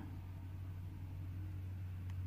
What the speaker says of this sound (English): Transport's passing back and forth on the highway here